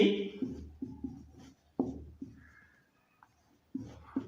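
Marker or chalk strokes on a board during a chemistry lecture on solutions: a series of short, scratchy writing bursts with brief pauses between them, fairly close.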